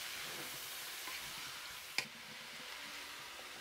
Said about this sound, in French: On continue à faire rissoler.